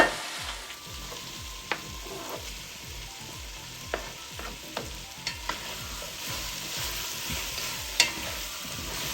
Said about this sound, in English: So now I'm adding the potatoes.